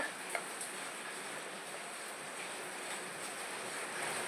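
Spices dry-roasting in a pan while being stirred, a faint, steady rustling hiss with light scraping and a small tap near the start, no voices.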